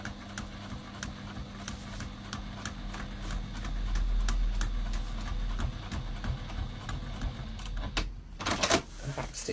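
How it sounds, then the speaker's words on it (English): A sewing machine stitches straight across a fabric tube filled with cardboard, giving a close, rapid mechanical chatter with a low hum, then a brief burst of louder clicks near the end. "We're just going to stitch right the way across as close to the cardboard as we can."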